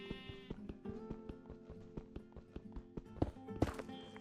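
Minecraft sheep bleat a few times nearby amid soft clip-clop footsteps and tapping, with a short bright burst toward the end.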